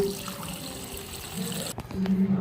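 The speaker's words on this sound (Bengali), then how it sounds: "অনেকবার করে আমি ধুয়ে নিই" Raw meat is rinsed repeatedly in water in a kitchen, with a steady splashing, trickling wash and a faint tonal hum, moderately loud and close.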